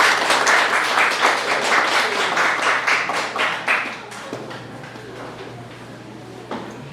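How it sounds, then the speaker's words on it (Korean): Applause from a lecture audience welcoming a speaker at a humanities talk at a Cheongju cultural center, steady clapping for about four seconds, then fading to scattered claps and room noise. "큰 박수로 모시겠습니다."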